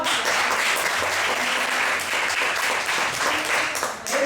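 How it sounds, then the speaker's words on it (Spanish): Audience applause for a student at a storytelling workshop, a dense, even burst of many hands clapping close by for about four seconds with no one speaking over it. "Un aplauso para Luzma."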